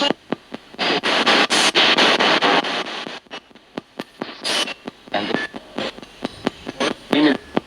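A ghost box radio sweeps through stations, spitting loud, choppy bursts of static. The bursts cut on and off in a fast, uneven rhythm, with brief snatches of sound between them.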